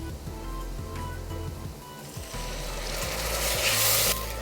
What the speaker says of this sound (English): Adding the white wine now, and I'm going to allow it to reduce completely.